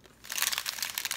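A cellophane baggie crinkles up close in a short burst of crisp, rustling crackles lasting about a second.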